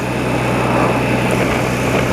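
An old motorbike being ridden on a road, its small engine droning steadily and close throughout, with a constant buzzing hum and wind noise and no talking.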